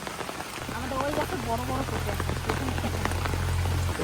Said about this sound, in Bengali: সকাল থেকে এখানে বৃষ্টি হচ্ছে ভীষণ আমাদের